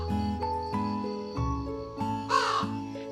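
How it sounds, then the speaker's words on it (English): A crow caws repeatedly in a string of harsh calls over a steady tonal musical backing, one sharper, louder caw near the end. "The crow flew over and over again in search of water."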